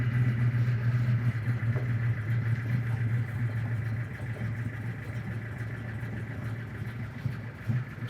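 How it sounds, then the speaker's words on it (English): A 1965 Ford Mustang Fastback with Sniper fuel injection idles just after starting, a steady, low, even engine drone with a slight lumpy pulse throughout. "Turn it on, let the fuel pump do its thing."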